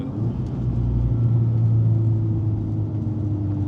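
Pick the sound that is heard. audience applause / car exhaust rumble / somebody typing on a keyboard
car exhaust rumble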